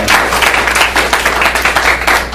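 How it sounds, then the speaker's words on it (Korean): Audience applause at a church summer retreat night worship service, a dense, loud wash of many hands clapping steadily throughout with no break. "박수 한번 주세요"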